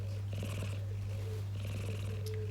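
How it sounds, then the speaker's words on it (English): A cat makes a couple of soft, drawn-out meowing calls, faint beneath a loud, constant low hum. "Please give me a meow."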